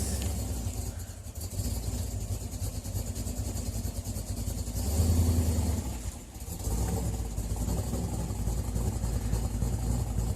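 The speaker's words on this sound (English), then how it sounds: "that has cam work done to it, but that thing still sounds nasty" Engine with aftermarket cam work idling with a lumpy, uneven rumble, rising briefly around the middle as it revs, heard close with no talk.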